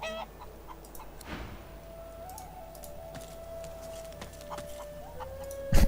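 Chickens cluck in a steady rural backdrop in the video game Divinity: Original Sin 2, with a few short calls breaking through and a sustained tone running beneath most of the scene.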